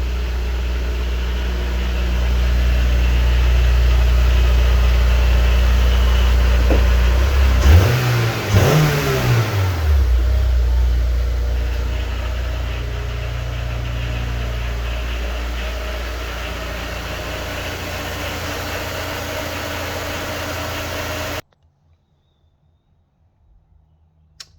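Honda S2000 engine fires and runs steadily close by, with a brief rev surge near the middle, then holding a loud, even hum before cutting abruptly to silence near the end; the car has a faulty MAP sensor that was causing it to cut out.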